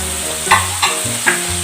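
Shrimp and canned tuna in olive oil sauté in a hot pan, a bright close sizzle broken by a few quick stirring scrapes and clinks.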